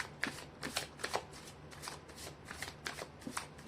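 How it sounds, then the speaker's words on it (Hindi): Tarot deck being shuffled by hand up close, a string of quick papery riffles and card slaps in an uneven rhythm, with no talking. "कर लेती हूँ कार्ड की शफलिंग।"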